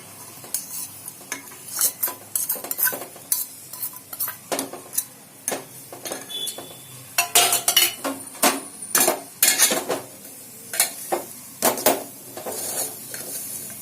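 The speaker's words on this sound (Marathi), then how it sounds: "आपलं खोबरं थोडंसं परतून झालंय, त्यात आपण हा किसलेला गूळ घ्यायचा टाकून" Grated coconut and grated jaggery being sautéed in a pan for ukadiche modak filling, with repeated sharp scrapes and clinks of a metal spoon against the pan over a soft background sizzle, steady stirring throughout.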